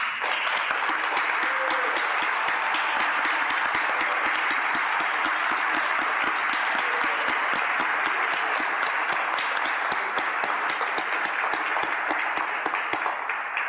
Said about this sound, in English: I would like to ask all of these young men to stand up and for us to applaud them